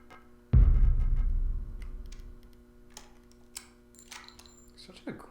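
An item pickup cue from the survival horror game SIGNALIS hits as a sudden loud, bass-heavy thud that rumbles and decays over about a second, followed by quieter game ambience and small clicks.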